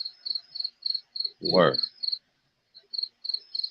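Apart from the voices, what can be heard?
crickets chirping in the background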